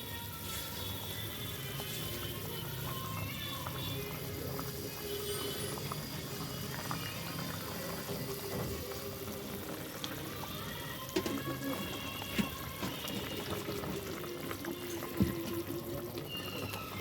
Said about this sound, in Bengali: বলে নিয়মের মতন এবার দিয়ে দিচ্ছি মাছটা